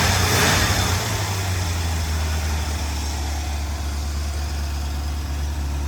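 A 1984 C4 Corvette engine idles steadily at about 1,000 RPM, a loud, even low rumble that holds unbroken throughout with a brief rise in hiss at the start.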